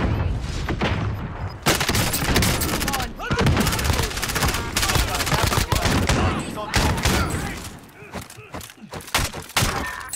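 Rapid bursts of gunfire and explosions from a Call of Duty Warzone match, loud and nearly continuous with brief gaps, while players talk over the action.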